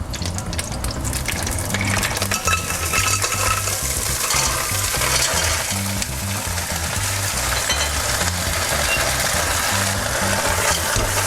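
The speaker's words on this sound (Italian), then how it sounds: "quando soffrigge l'olio insaporito, aggiungiamo le nostre cozze" Mussels hitting hot flavored frying oil for an Italian sautéed mussel dish, giving a loud, steady sizzle with stirring and rattling shells, close by and continuous throughout.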